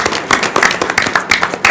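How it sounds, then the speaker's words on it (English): Brief burst of applause from the audience at a Romulus city council meeting, a short patter of hand claps in a room, moderately loud and lasting under two seconds. "So I have a round of applause for them as well."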